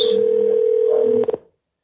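A telephone dial tone hums steadily and loudly on a cold call for real estate listings, then cuts off into a few sharp clicks and falls silent.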